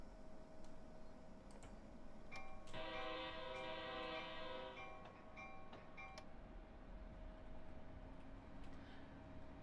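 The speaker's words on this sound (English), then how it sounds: "Conductor, Acela number 2171, ready to depart Baltimore." An Acela train departing Baltimore sounds its horn in a short, sustained blast amid a low, continuous rumble of rolling stock, with scattered ticks and clicks from the cab.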